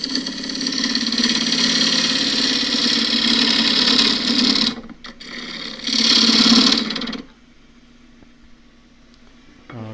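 Wood lathe spinning a knotty, split Himalayan cedar bowl blank at about 1700–1800 rpm, a loud steady whir with tonal hum that cuts off twice, then drops to a quiet background.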